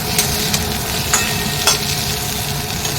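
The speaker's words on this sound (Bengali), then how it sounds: "এখানে আলু আর বেগুনটা ভেজে নিচ্ছি" Steady sizzling of potato and eggplant frying in a pan after black cumin tempering, with a few scraping stirs of a utensil breaking through the hiss.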